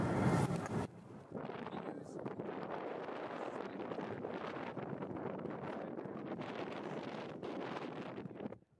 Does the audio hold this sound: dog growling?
no